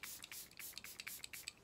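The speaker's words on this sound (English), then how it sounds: "Even it's a pump, but it's the finest mist." A pump bottle of ultra fine mist setting spray is pumped repeatedly, about a dozen short, soft hissing bursts in a quick irregular rhythm, close and quiet with no talking.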